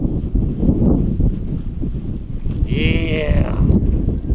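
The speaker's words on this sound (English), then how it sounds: "We gotta give the sheep some hay." Sheep on a snowy off-grid farm in winter at feeding time, with one clear bleat around the middle of the clip over a steady bed of rustling and shuffling noise.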